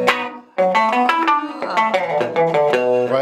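A Fender electric guitar on its quacky, out-of-phase in-between pickup setting plays a quick run of bright, twangy single notes and double-stops after a short pause, close and clear with no voices.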